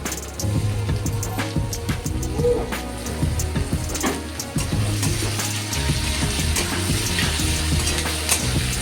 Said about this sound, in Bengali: টমেটোটাকে একটু নেড়ে চেড়ে নেব, কিছুক্ষণ ভালো করে ভেজে আদা রসুনের পেস্ট দিয়ে দেব।